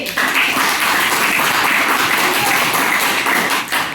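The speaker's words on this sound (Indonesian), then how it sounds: "tepuk tangan dulu untuk kelompok B" A classroom of junior high students in Indonesia claps for a student group after its presentation, a steady, dense wash of many hands close by that fills the whole stretch without pause.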